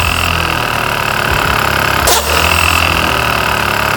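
A Bentley's air suspension pump runs in a loud, steady mechanical drone while compressing, close by, with a brief shift in tone partway through.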